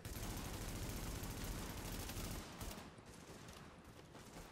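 Dense, continuous gunfire in the video game Tom Clancy's The Division, including shotgun fire, forming a sustained rattle that eases off slightly midway without fully stopping.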